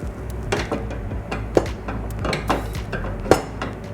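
A saucepan is handled close by, with soft metallic clatter and two sharp clinks standing out. No one speaks.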